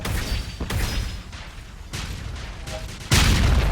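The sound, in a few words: loud explosion in a Godot shoot 'em up video game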